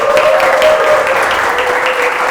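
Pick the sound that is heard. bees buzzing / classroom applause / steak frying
classroom applause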